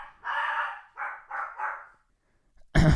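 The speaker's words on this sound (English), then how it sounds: "as soon as I press record, he fucking loses his mind and barks at literally everything" A dog barks indoors during a podcast recording: four quick, loud barks in a tight run, then a short pause and one more sharp, close burst.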